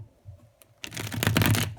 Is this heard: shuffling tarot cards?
yes